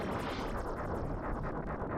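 Dense, continuous rumbling blasts overlap one another, loud and chaotic with crackling debris, a rapid barrage of explosions in the video game Star Fox 2.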